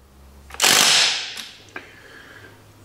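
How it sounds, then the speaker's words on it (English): A ratchet works on a car wheel being refitted, a sharp loud burst of whirring mechanical noise followed by a few faint clicks, close by and without talk. "We can get the wheel back on."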